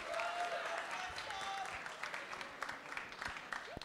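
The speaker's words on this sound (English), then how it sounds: "round of applause for the senator from Nevada" Audience applause for a senator during a simulated Senate session at a symposium, fairly faint and steady clapping from a room full of people, with brief sharper claps and a short voice near the end.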